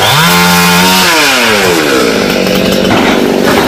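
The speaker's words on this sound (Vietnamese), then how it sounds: "nhờ đến đây để cưa thêm cây vú sữa" A chainsaw cuts down a fruiting star apple tree whose branches reach over a house roof, running loud and close with a steady high whine that bogs down in pitch as the blade bites into the wood.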